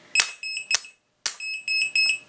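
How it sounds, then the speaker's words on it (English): An LED button combination lock escape room prop gives a series of short, sharp, high electronic beeps in uneven clusters with a brief pause between them, loud and close with no talking. "unit beeps, keeps beeping 3 times."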